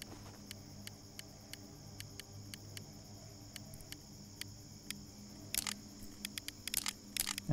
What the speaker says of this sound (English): And you can hear it click into place.